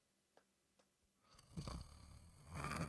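A person acting out a snoring character during a live tabletop Dungeons & Dragons session, imitating snoring with a voice: faint clicks at first, then rough, breathy snore-like bursts rising louder toward the end.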